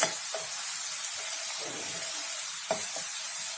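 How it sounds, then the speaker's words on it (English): Green chilies, ginger and curry leaves fry in a pan, making a continuous bright sizzle with a few sharp crackles and pops. "We want these chilies to fry a bit."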